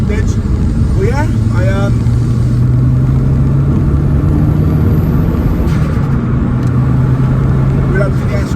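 A Ford Escort RS Cosworth replica's engine drones steadily from inside the car as it is driven, a continuous mid-low hum with a rising tone, while a person talks over it throughout.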